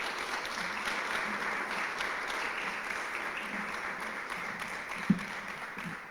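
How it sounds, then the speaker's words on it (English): An audience at a Guide Dogs of America service dog graduation gives a steady round of applause for an Army veteran. The clapping is even and continuous throughout, with one sharper clap near the end. "How about a big round of applause for Brooke?"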